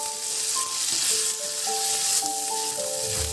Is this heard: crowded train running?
no